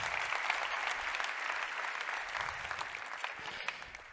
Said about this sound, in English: Round of applause for my mom.